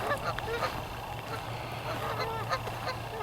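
Geese honking repeatedly near goslings outdoors, loud overlapping calls over a low steady background hum.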